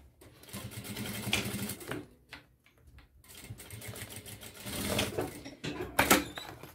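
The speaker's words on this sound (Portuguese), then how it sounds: "vou fazer uma costurinha, um pé de máquina" A sewing machine stitches a seam on fabric in bursts of rapid mechanical whirring, stopping and starting several times, close and moderately loud.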